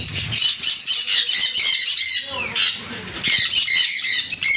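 Pet birds, lutino cockatiels and conures, squawk loudly and continuously in a crowded bird market setting, shrill overlapping calls with a brief lull midway before the screeching resumes, with faint talk underneath.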